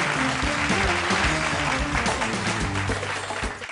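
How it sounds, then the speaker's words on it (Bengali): A studio audience on a family game show claps loudly and steadily for nearly four seconds, dense applause that tapers slightly at the end. "জোরে একটা হাততালি।"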